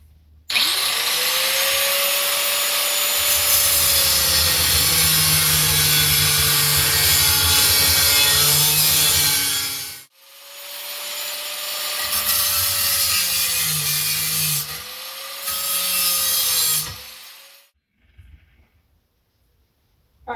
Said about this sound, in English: So once again, I'll be using my grinder.